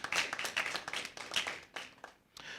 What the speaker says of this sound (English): I'll ask for another round of applause for that